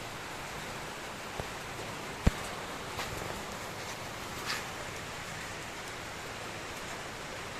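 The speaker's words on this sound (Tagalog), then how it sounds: "ayun umuulan tayo umuulan" Steady soft rain hiss, fairly quiet and continuous, with a couple of brief faint ticks and knocks.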